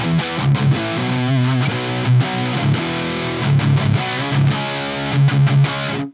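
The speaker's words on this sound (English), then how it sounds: "and that is a very high gain rock tone." A Hughes & Kettner TriAmp Mark 3 electric guitar amp on its highest-gain red channel plays a heavily distorted rock riff with sustained chords and chugging palm-muted bursts, loud and close, with no talking.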